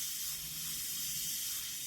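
Airbrush lightly spraying panel lines on an Airfix 1:48 Sea King HU5 model kit, a steady close hiss of paint mist running without pause.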